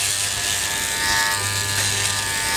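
Electric hair clippers buzz steadily and close up while trimming the sides of dry hair at home, a continuous motor hum with slight shifts in pitch as they move along the hairline.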